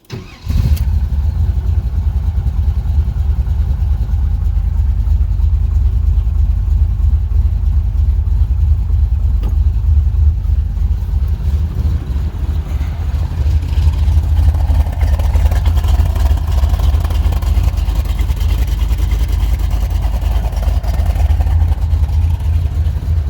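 A 1971 Corvette cranks and fires up, then settles into a loud, close, steady running rumble that continues without a break for over twenty seconds.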